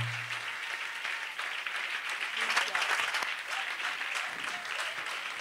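A church congregation applauds in praise, a steady dense clatter of many hands sustained throughout, with scattered voices calling out beneath it.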